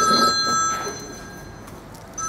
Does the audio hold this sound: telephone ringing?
yes